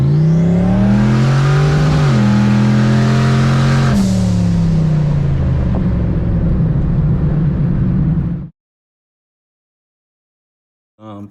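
A turbocharged Mustang engine with leaking ports revs loudly and climbs in pitch, holds a high wail, then eases down before cutting off abruptly to silence, with a short burst returning at the end.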